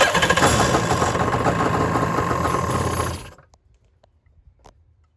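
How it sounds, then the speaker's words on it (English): A Yamaha Superjet jet ski with fuel poured on the carburetor and a suspected exhaust leak starts up with loud, rough engine revving for about three seconds, then cuts out abruptly, leaving near silence with a couple of faint clicks. "Okay, this is gonna be first starting the ski."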